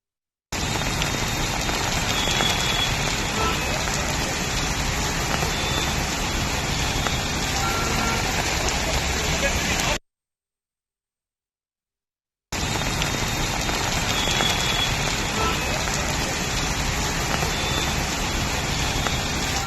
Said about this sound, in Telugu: ప్రస్తుతం పడుతున్న వర్షాలు మరో 2 గంటలు కొనసాగే అవకాశం ఉందని తెలిపింది